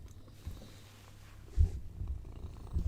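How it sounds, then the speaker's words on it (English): A cat purrs softly in a low rhythmic rumble, close and quiet, with slightly stronger pulses midway and at the end. "I think you guys are going to get some ASMR of a cat purring."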